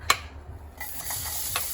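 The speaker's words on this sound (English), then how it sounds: "and then start frying." Ingredients for squid adobo, ginger among them, hitting a hot pan and being stirred: a faint sizzle with soft scraping and clinks from the utensil, quiet and close.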